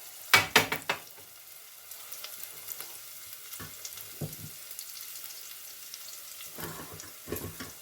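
Onions fry gently in a pan, a soft low sizzle broken by a few sharper clacks and stirring bursts at the start, in the middle and near the end, with no talk.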